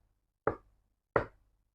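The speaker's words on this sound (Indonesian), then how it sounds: "suara ketukan pelan" Two soft, separate knocks, spaced under a second apart, each a brief dull thud that fades quickly against near silence.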